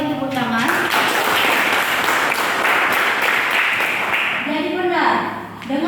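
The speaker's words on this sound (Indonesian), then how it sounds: "berikan tepuk tangan" Audience applause breaks out at an Indonesian gathering, a dense wash of clapping that fills several seconds, with a speaker's voice heard at the start and again as the clapping fades.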